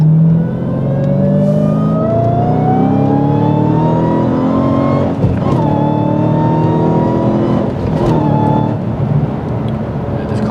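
A car engine revs hard on a highway on-ramp and climbs steadily in pitch through the gears, loud and close, with brief dips at each shift.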